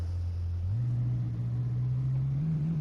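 A Lamborghini Aventador SV in Assetto Corsa drones with a loud, steady low engine note that climbs gradually in pitch as it revs, continuous and close with no talking.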